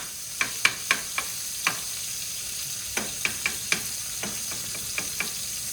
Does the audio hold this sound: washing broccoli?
no